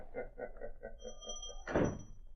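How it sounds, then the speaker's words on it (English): A door shuts with a solid, close thunk after a short run of soft rhythmic thuds and a faint steady tone. "And shut that door."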